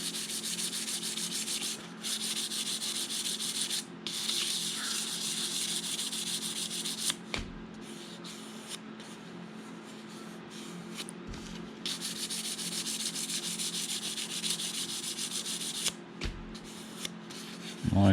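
Steady hand sanding of UV-cured grain filler on wood, a soft continuous scratchy rubbing with a few brief pauses between strokes, close and fairly quiet.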